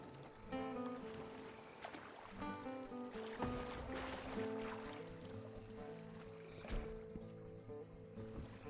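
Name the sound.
paddling a canoe in the bayou, from the video game Red Dead Redemption 2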